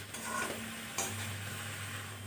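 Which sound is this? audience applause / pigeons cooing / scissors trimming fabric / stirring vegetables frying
stirring vegetables frying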